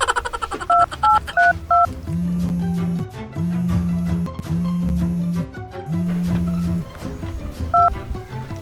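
A phone is dialed in a village setting: quick bursts of keypad tones at the start, then several long steady beeps in a row, and a couple more keypad tones near the end.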